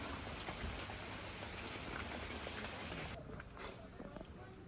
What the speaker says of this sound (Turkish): Hala çiseliyor ama.